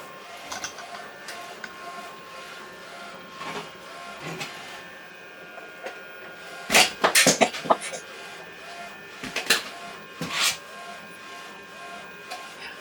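A Procolored F13 Panda DTF L1800 printer running a print job, with steady mechanical whirring, ticking and ratcheting clicks, then louder bursts of carriage movement toward the end. A faint voice may be present underneath.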